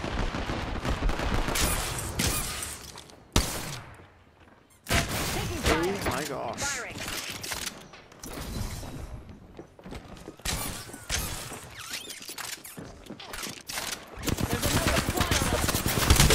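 Rapid bursts of gunfire in Apex Legends, sharp repeated shots in clusters with a short quiet gap, mixed with game effects and a voice talking over the action.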